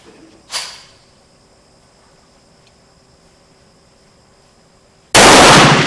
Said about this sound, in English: I want to look down range and shoot some more.